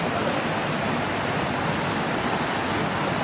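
A waterfall on a Jamaican river roars as a loud, steady, broadband rush of falling water, constant and close, with no voices over it.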